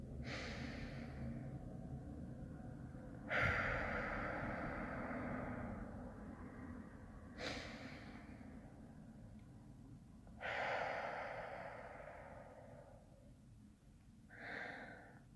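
Slow deep breathing exercise: four long exhalations through the mouth, each a breathy rush of air lasting a few seconds, spaced evenly and close to the listener over a quiet background hum, with no talking.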